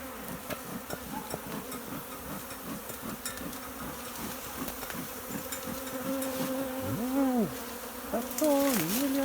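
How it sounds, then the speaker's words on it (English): A colony of honeybees swarming at the hive, a dense continuous buzz close by with individual bees sweeping past in rising and falling drones, steady throughout and without talk. "That's all millions of bees,"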